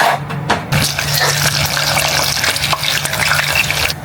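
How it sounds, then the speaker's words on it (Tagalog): Squidballs and kikiam frying in a pan of oil, a loud, dense and steady sizzle with crackling that fills the whole stretch, up close with no talking. "bumili na lang ako dito sa mga tindahan ng squidball at kikiam at ipiprito na natin"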